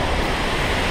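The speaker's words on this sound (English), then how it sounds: "Which is a big waterfall." Devil's Punchbowl, a 130-meter waterfall in New Zealand, roaring as a loud, steady broadband rush of falling water with no voices.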